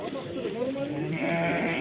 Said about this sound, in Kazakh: кой баласы көп чыгыптыр да.